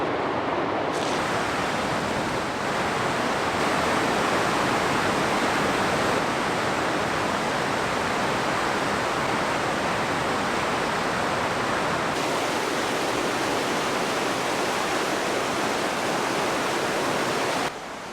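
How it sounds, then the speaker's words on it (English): Otterslide Falls on a river, heard from upstream, gives a steady, broad roar of rushing water that stays loud and unbroken throughout, with no voices. "You can probably hear the falls just up ahead here, Otterslide Falls."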